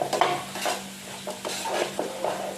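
A utensil stirs and turns mixed sprouts usal with cornflour in a pan in repeated close scrapes over a soft sizzle and a steady low hum.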